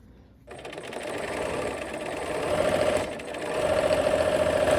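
A sewing machine joins quilt seams in a steady, close, continuous whir that starts after a brief pause and runs on, with a faint motor hum throughout.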